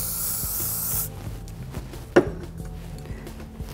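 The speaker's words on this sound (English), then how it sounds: "And then I'm gonna do a little bit of spray." A single short hiss of hairspray bursts out once, fairly close, amid quiet room noise and soft handling sounds.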